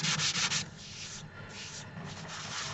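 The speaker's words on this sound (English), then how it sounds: "Bit of hand sanding now as well" Close-up hand sanding of a turned Robinia burr vase: quick rhythmic scratchy strokes at first, then slower, longer rubbing passes, with no talking.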